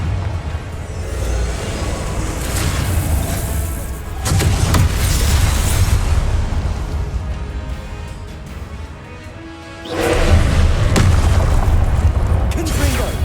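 Confringo blasting-spell explosions in the Hogwarts Legacy video game: loud, deep rumbling booms surge twice and carry on thickly through dense in-game combat noise.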